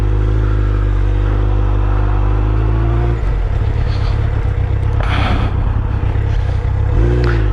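A 2000 Suzuki Hayabusa motorcycle, revived and missing its mirrors, being ridden: a loud, steady engine drone that shifts pitch and roughens midway, with wind rush and clatter throughout.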